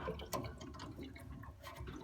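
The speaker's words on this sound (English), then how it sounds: "Okay, so the boiler's isolated, still gurgling away." Water gurgling inside an isolated Vaillant Turbomax 242 gas combi boiler with a flat expansion vessel, a quiet continuous bubbling and trickling with faint drips, heard alone at close range.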